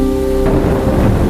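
A cartoon thunderstorm brings a loud thunder rumble that swells midway over heavy rain hissing on surfaces, opening with a brief sustained tone.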